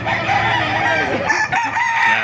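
Roosters crow repeatedly at a busy chicken market in Baliuag, their drawn-out calls loud and close over constant crowd noise and clucking.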